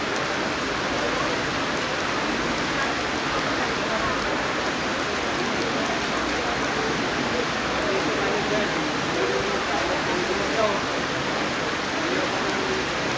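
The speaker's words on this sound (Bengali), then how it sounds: "আমাদের এখন প্রচণ্ড বৃষ্টি হচ্ছে," Heavy rain pours at Tongi railway station in Gazipur, a dense, continuous, even roar of falling water that fills the whole stretch without a break.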